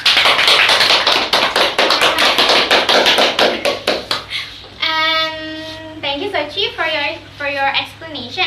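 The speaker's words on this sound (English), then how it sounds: "give applause for Suci" Brief burst of quick clapping from a small group, a few seconds of rapid hand claps, followed by an electronic tone and speech.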